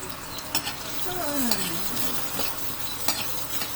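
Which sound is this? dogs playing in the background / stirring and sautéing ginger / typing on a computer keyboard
stirring and sautéing ginger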